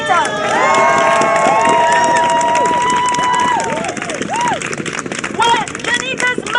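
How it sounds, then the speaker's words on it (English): A crowd at a New York Black Lives Matter rally cheers and shouts loudly for a woman named Janita, with whoops and raised voices filling the space before it thins into scattered calls. "Let's clap for Janita."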